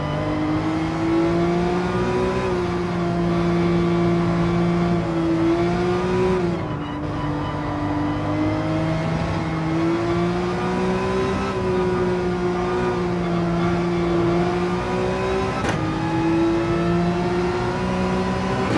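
A Corvette and a Porsche race car engine hold a steady, loud drone in the Gran Turismo 7 video game, with slight pitch shifts through gear changes and no talking.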